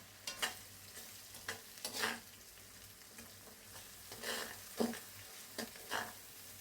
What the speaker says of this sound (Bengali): আমি মশলাটা তেলে ভাজা ভাজা করে নিলাম।